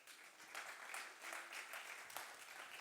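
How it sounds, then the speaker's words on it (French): Audience applause at a conference on media and ecological transition, a steady wash of many hands clapping in a hall, moderately loud and sustained for a few seconds with no talking. "On peut l'applaudir s'il vous plaît."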